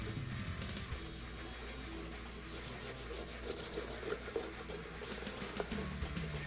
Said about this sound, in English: get some sandpaper and just scuff the surface